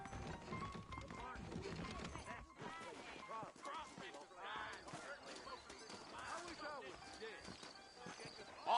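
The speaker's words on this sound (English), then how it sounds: "I got the horses saddled up and ready out front." Horse hooves clip-clop steadily in the Red Dead Redemption video game on PS5, with a brief whinny, all running quietly beneath ongoing character dialogue and game ambience.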